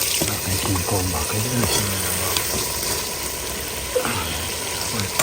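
Ackee and sausage sizzle and fry steadily in a pan, a loud continuous crackle with occasional stirring scrapes and some background noise, no one speaking over it.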